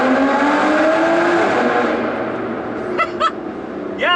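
Aston Martin V12 Vanquish S engine roaring loudly inside a tunnel, the sustained note sweeping down as it eases off, followed by short sharp revs and a final rising blip, echoing off the walls.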